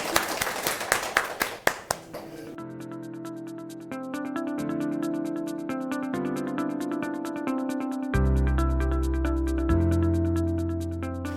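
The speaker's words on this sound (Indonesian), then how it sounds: "Kita beri aplaus ya." Audience applause at a university teaching session, a short burst of claps that fades within about two seconds, followed by a synthesized harmonic jingle that plays on alone.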